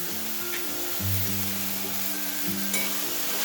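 Veg hakka noodles being stirred in a pan with ketchup, soy sauce and schezwan chutney; a continuous close sizzle with soft stirring, no talking.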